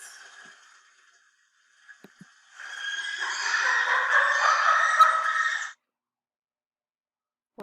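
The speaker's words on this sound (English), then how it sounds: "A monkey." A monkey calling: after a few faint clicks, one sustained, strained harmonic call lasts about three seconds and then cuts off, heard alone.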